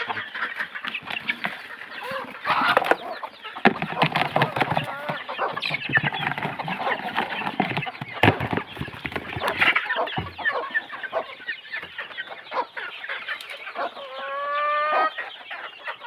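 Desi chickens cluck and call in a busy farm coop, with dense overlapping clucks throughout, a few louder squawks, and a drawn-out rhythmic rooster-like call near the end; close and fairly loud, no speech.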